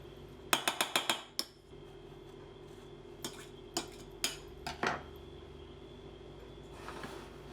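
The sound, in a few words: mixing vanilla seeds and pod into the custard mix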